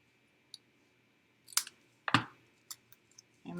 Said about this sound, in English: I'm going to take my snips and just cut that away